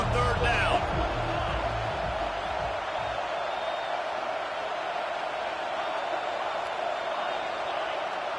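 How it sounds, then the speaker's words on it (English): A college football video game crowd roaring as it gets behind the defense on third down, a steady broad wash of cheering after a brief burst of commentary at the start. "Decibels rising as the crowd gets behind this defense on third down"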